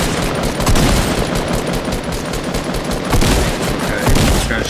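Gunfire in a video game shootout around a house, loud sustained bursts of rapid automatic shots with a few heavier booms, dense and continuous from start to finish.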